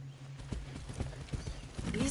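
Horse hooves clip-clopping in the video game Far Cry 6, a steady run of rhythmic thuds under a constant background hum and game ambience, with a voice briefly audible near the end.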